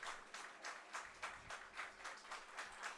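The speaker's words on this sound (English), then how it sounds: "The Larks fans will clap again now that there's 2 strikes." Baseball fans of the Hays Larks clap at a ballpark after a second strike, a steady run of fairly faint, distant hand claps pulsing about every half second.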